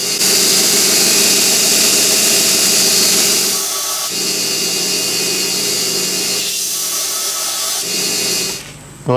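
A coarse belt sander grinds a cast brass machinist hammer head, a loud continuous whining drone with brief dips near 4 and 6.5 seconds as the workpiece shifts, then a sharp cut-off at the end.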